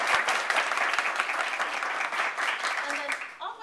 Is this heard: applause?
yes